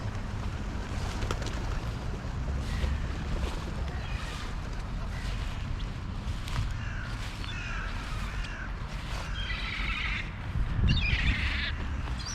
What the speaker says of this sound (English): There's a number of silver gulls up on the ramp up there.